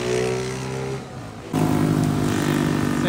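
A motorcycle engine passes close by, a droning hum that drops off for a moment and then returns as a loud, rising roar near the microphone.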